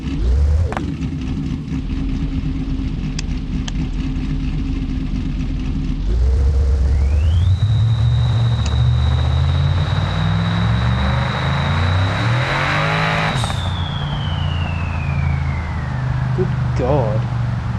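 A drag car engine in BeamNG.Drive idles low, then revs hard and launches, its pitch climbing through gear-like steps under a steady high whine before easing off, loud and close, with a voice talking over it.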